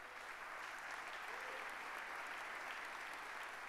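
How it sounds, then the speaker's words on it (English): Steady round of applause from an audience for a guitarist being introduced at a conference kickoff event in Vienna, a dense, even wash of clapping heard from a distance at low level, with no voices. "Dick Neuscheberger at the guitar, please, round of applause."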